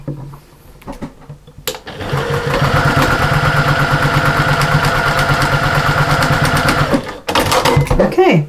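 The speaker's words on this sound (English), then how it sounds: "I didn't do a backstitch, and I want to do a backstitch" A sewing machine stitches a backstitch on lining fabric, running with a close, steady rapid chatter for about five seconds, with quieter handling noise before and after.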